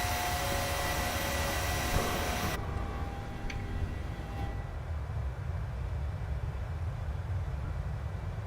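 PMDG 737 airliner climbing after takeoff at about 1000 feet in Microsoft Flight Simulator 2020, a loud steady jet engine roar that drops abruptly in brightness partway through, then continues as a constant dull rumble with no talk.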